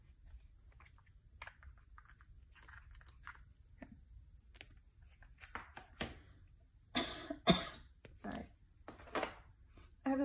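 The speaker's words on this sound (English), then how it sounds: "Bit of a cough for some reason" A single person's dry coughs at close range, a few sharp bursts clustered together amid faint handling and rustling, with no talk over them.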